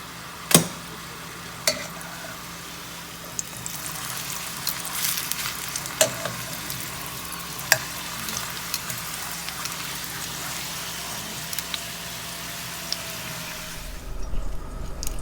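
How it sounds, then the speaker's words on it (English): A tortilla frying in a pan, a continuous soft crackling sizzle close by, with a few sharper pops scattered through and no voices. "Let me give you a close-up of the sizzly goodness of this tortilla."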